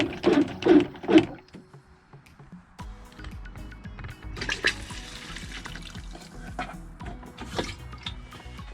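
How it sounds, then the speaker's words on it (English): Water pouring into the flush reservoir of a campervan toilet, a steady close trickle and gurgle running throughout after a few brief knocks at the start. "So this is just the water for the flush."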